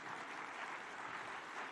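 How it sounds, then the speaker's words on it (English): An audience applauds at the Connected Africa Summit after President Ruto's opening speech: faint, steady clapping from a crowd, heard alone without speech. "Another round of applause for His Excellency."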